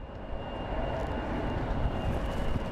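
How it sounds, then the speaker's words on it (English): An Embraer ERJ 175 jet departs from Sky Harbor International Airport in Phoenix, a steady broad roar of jet engines heard from a distance with a faint high whine over it. "up next for departure is going to be an Embraer,"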